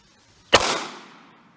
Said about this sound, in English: Barnes 115 grain Tac-XPD 9mm, shooting from 5 feet away